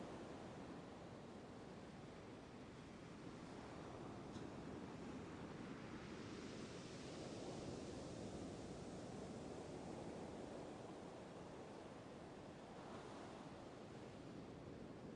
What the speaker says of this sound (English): allow the gentle sound of the waves to lull you into a peaceful slumber